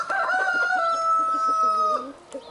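Roosters crow loudly and close by in long, drawn-out calls that overlap, followed by a few short clucks as the last crow fades.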